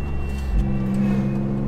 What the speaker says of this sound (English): every now and again, you'll get this amazing intake noise and